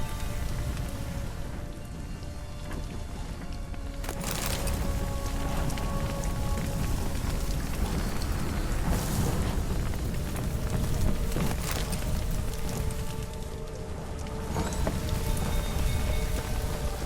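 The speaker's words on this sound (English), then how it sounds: "Looks like rain." Steady rain pours over a Witcher 3 game scene, a dense, even hiss running throughout with a few brief sharper cracks and rumbles mixed in, no talk.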